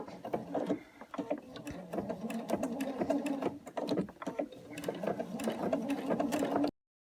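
An embroidery machine stitches in rapid rhythmic bursts with brief pauses, its clattering mechanical whir heard up close for several seconds before it stops into silence.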